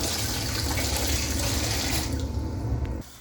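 Rice being rinsed in a bowl of water under a running tap in a home kitchen, a steady loud splashing and gushing that runs for about three seconds before cutting off abruptly, with no voices.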